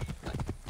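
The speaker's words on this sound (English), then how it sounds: "They just stole someone's horse." Horse hooves clip-clop in a steady quick rhythm in the Assassin's Creed Origins video game, close and clear across a brief moment.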